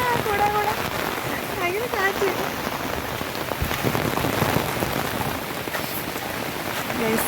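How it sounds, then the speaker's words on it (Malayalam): Heavy rain pours down steadily with strong wind in a rushing, gusty roar, and a voice speaks briefly beneath it. "ഫുൾ കാറ്റും മഴയും"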